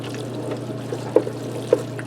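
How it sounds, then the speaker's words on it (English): A shot of milk is poured into mac and cheese with herb chicken in a Ninja Speedi cooker, a soft brief trickle and pour over a steady appliance hum, with two small splashy blips near the end and no talking. "Now I'm going to add a shot of milk in here just to make this creamy."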